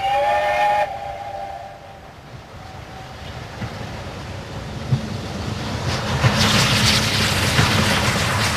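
A steam train on the North Yorkshire Moors Railway sounds a loud whistle for under a second, then gives way to a long, broad, windy rush that swells louder toward the end and no voices.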